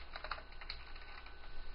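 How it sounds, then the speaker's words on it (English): Continuous typing on a Gamdias Hermes RGB mechanical keyboard with clicky blue-type switches, a steady run of quiet, close key clicks with no talk. "I can feel the nice two-stage click, you know, as I do it. It is quite noisy"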